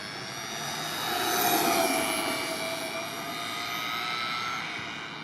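A JLB Racing Cheetah RC car's 120-amp electric motor gives a steady high-pitched whine, fairly loud and close, swelling briefly then holding constant with a buzzing edge.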